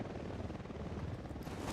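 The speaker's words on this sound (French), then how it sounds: "Hélico de l'unidad en patrouille," An Unidad patrol helicopter in the video game Ghost Recon Wildlands keeps up a continuous rotor thrum, fairly steady and moderately loud, with no talk over it.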